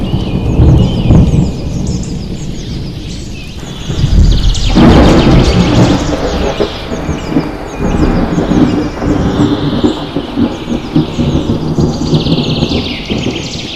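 A thunderstorm with steady, heavy-sounding rain, a loud rolling thunder burst rising near the middle and rumbling on, while birds chirp faintly through the downpour.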